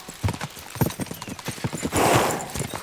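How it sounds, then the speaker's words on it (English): Horses galloping in Kingdom Come Deliverance 2, quick clustered hoofbeats pounding close and loud, building toward a rushing, noisy swell near the end. "We should spur the horses on."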